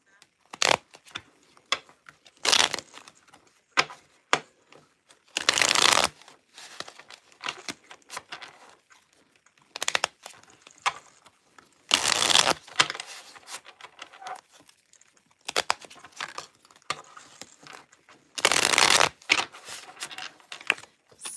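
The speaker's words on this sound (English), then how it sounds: "let's shuffle this deck" A tarot deck is shuffled by hand in short, sharp riffling bursts that recur every few seconds, with softer card handling and rustling between them.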